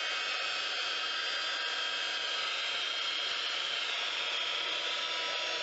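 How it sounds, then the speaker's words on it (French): A heat gun blows ink across a mixed-media art piece, giving a steady, close airy roar that holds at a constant level throughout with no pauses. "vous dirigez avec la hot gun, vous dirigez votre encre dans les endroits où vous désirez qu'elle aille."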